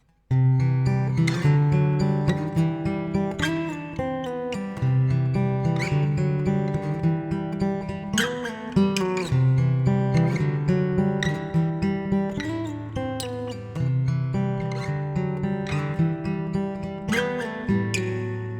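A guitar plays a repeating riff with plucked, ringing notes at a steady moderate volume, no voices.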